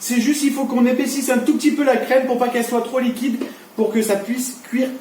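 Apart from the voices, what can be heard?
None of the usual background noises is heard.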